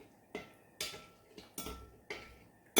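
A spoon stirs olive oil into pizza dough in a bowl, five or six separate scraping clinks against the bowl at a steady, unhurried pace, close and fairly quiet with no talking.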